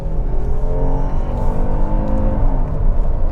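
A 2025 Kia Telluride SX Prestige X Pro on all-terrain tires accelerates up an interstate on-ramp, its engine note climbing steadily over a constant low road and tire rumble, close and loud throughout.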